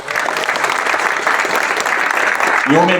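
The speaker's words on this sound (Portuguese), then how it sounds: "Uma salva de palmas." Sustained applause from a crowd gathered in the Buriti Indigenous Territory at an event with the Minister of Indigenous Peoples, steady dense clapping throughout, with a voice rising briefly over it near the end.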